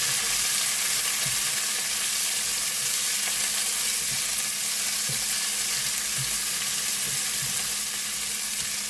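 Half a tomato fries with onion-based masala in a pan for an Indian zucchini curry, giving a loud, constant sizzle with soft, intermittent stirring taps underneath. No voices.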